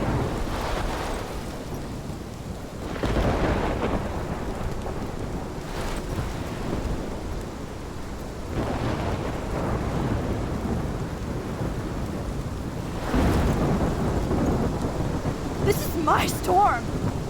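Rolling thunder with steady heavy rain from a storm in the game Life Is Strange, low rumbles swelling in several waves over a constant downpour, with a few brief sharper sounds near the end.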